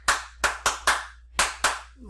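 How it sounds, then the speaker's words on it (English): Six sharp hand claps in an uneven rhythm, close and crisp, with brief pauses between groups. "You clapped"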